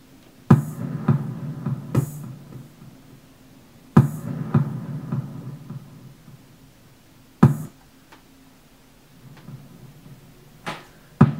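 Layered kick drum built from a pitched-down firework sample and an 808-style kick, landing as a handful of loud, sparse booming hits with short decaying tails, spaced unevenly across the passage with no voices.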